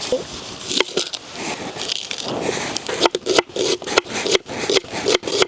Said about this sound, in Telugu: ఉల్లిగడ్డలు ఇట్లా సన్నగా కోసుకోరు